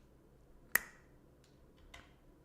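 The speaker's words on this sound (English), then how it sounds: "I have the power to snap my fingers" A single crisp finger snap, close and clear against a quiet background, followed by a couple of much fainter clicks.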